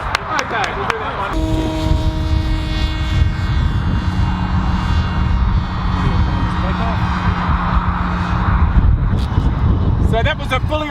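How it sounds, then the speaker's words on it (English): A small fixed-wing UAV takes off autonomously, its engine a steady whining hum with tonal drones, heard under a continuous voice speaking to an audience throughout. "So that was a fully autonomous takeoff and it's now tracking doing circuits."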